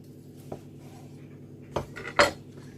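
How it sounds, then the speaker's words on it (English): A knife cuts through pan-fried filet mignon on a plate, giving a few soft, close taps and scrapes of blade on the plate, the last one the loudest, with no talking. "I'm just going to slightly slice it."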